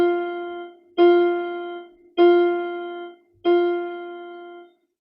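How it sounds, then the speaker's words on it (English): Four melodic beats played as a music example: four sustained pitched notes with rich harmonics, each struck sharply and then fading, spaced about a second apart, clear and alone. "that is an example of 4 melodic beats"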